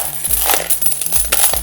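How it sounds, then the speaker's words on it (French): Coins spill and clatter out of a full bin of coins from lost luggage, a dense, loud jingling cascade with repeated metallic impacts, close up. "On a clairement affaire à un bac complet de pièces de monnaie."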